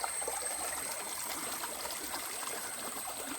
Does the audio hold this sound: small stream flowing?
yes